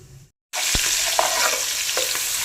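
Sliced onion and green chilies fry in hot ghee, a loud, steady close sizzle that starts suddenly after a brief silence, with a few stirring clinks.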